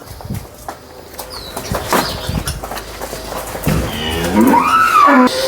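Cows mooing at a cattle sale where Jersey cows and a buffalo are on offer, with a long, loud low moo building near the end over background clatter and other livestock noise.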